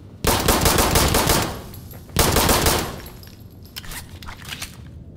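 Heavy bursts of automatic gunfire in a close-quarters firefight in Insurgency Sandstorm, two loud sustained volleys followed by scattered shorter shots, close and dominant with no talk.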